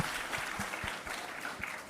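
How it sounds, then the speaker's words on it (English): People at a marketing conclave give a round of applause, steady and moderately faint, with a few clearer individual claps standing out. "A round of applause for the gentleman."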